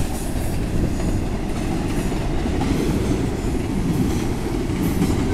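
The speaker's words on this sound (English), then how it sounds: "We have a beautiful, busy rail line" A train rolls past on a busy rail line, a loud, steady rumble of wheels on track with rhythmic clickety-clack and occasional faint squeals, close by and without any voices.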